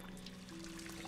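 In the video game Project Zomboid, a character drinks water, giving a soft, steady pouring and trickling sound, faint and continuous with a low game hum underneath.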